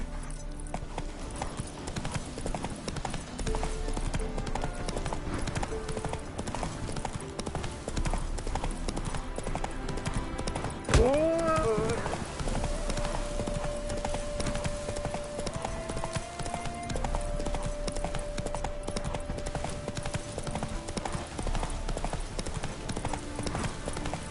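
Roach, Geralt's horse in The Witcher 3, gallops with a steady run of hoofbeats under game music, and a short whinny rises near the middle.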